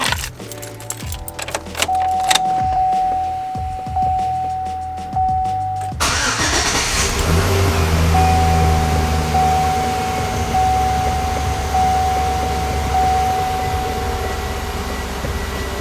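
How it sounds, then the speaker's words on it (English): A gasser car with a huge exhaust cranks, fires and settles into a loud, rumbling idle close by, after a brief jangle of keys and a whining starter. "Let's see here if that helped our idling situation at all."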